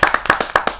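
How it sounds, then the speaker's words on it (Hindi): Audience at a Hindi kavi sammelan poetry gathering claps to welcome poet Arun Sahibabadi: a quick burst of sharp, closely spaced hand claps, loud and near, with no talking. "जहाँ जोरदार तालियों के साथ हम स्वागत करें अरुण साहिबाबादी।"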